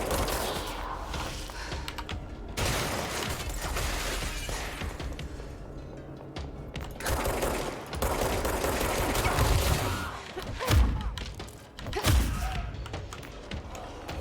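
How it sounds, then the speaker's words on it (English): Enemy gunfire in the action game Control, dense bursts of shots and thuds rattling throughout, loud and close, with a brief quieter lull in the middle. "Is he the only one shooting me?"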